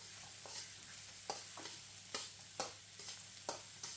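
Egg fried rice is stirred in a hot wok, a faint steady sizzle broken by a series of quick scraping strokes of the spatula against the pan, close and alone.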